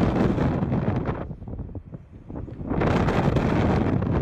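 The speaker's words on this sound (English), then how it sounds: "The gusts, the wind speed in there can reach 250 kilometers per hour." Strong Antarctic wind gusts buffet the microphone in loud roaring surges, dropping briefly to a quieter lull in the middle before blasting back in full force.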